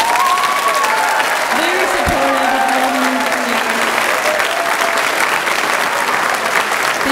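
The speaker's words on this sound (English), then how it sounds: "How about a round of applause for Doug Baker?" Concert audience applauding a retiring band teacher at a school spring band concert, a steady wash of clapping throughout, with a voice and faint tones briefly rising over it.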